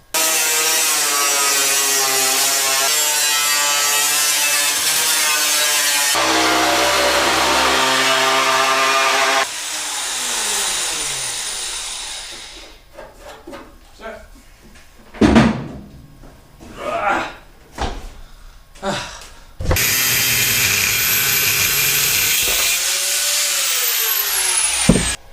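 A power tool cuts metal tubing while a Toyota Starlet KP rollcage is fitted, with loud sustained whining bursts, a pause filled with irregular clanks and scraping handling noises, then the cutting resumes near and loud.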